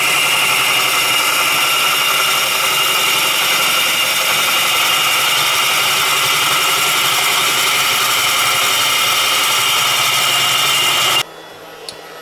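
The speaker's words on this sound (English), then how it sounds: "So I'm going to move over to using a bowl gouge." Woodturning lathe with a bowl gouge cutting a large wooden thread spool: a loud, continuous spinning drone with a steady scraping hiss, stopping abruptly near the end.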